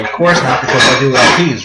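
Dishes and cutlery click and clatter close by in quick, busy bursts while someone talks over them.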